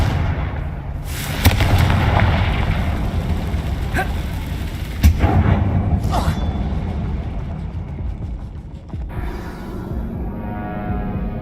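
Confringo fire spell explosions cast inside an old mine in Hogwarts Legacy: a few sharp booming blasts with crackling tails over a steady low rumble, slowly fading toward the end.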